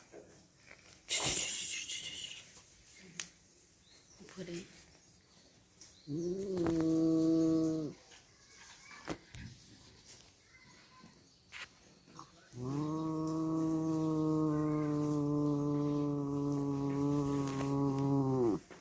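Two drawn-out tomcat yowls, a short one and then a much longer wailing cry, with light rustling and clicks in the quiet gaps between.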